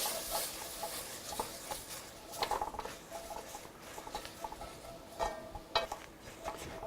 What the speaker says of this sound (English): I'm going to add onions and garlic and start those working around.